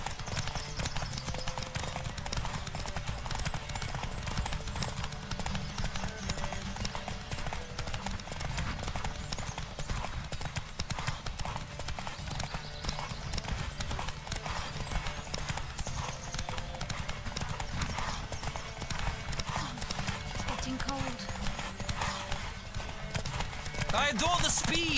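Horse hooves galloping in The Witcher 3 during a race, a steady fast clip-clop running throughout under a continuous wash of ambient game sound.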